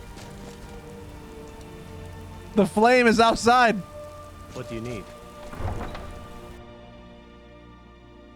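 Steady rain hiss in the video game Skyrim runs throughout, with a voice speaking briefly over it in the middle and a faint rumble underneath.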